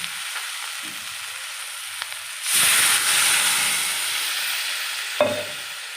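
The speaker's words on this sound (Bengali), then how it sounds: "এবার আমি জল ঢেলে দেবো" Water poured into a hot pan of fish curry with oil and spices bursts into a loud, steady hissing sizzle that gradually settles, preceded by quiet stirring and ending with a clank of the pan.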